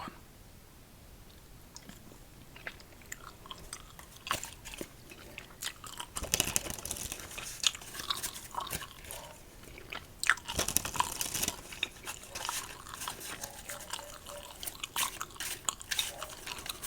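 Wiley Wallaby cinnamon licorice candy being chewed close up, with soft, irregular crunching and biting sounds that grow louder partway through, in a quiet setting with no talking.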